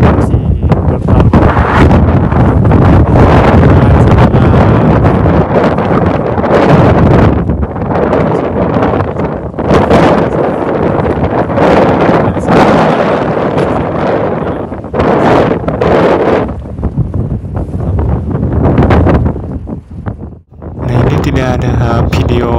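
Strong wind buffets the microphone on the summit of Mount Merbabu, a loud continuous roar that gusts and swells almost without pause, dropping briefly near the end.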